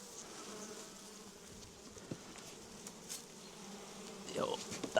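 Honeybees buzz steadily around an open hive in spring, a soft continuous drone with a few louder passes near the end and no voices.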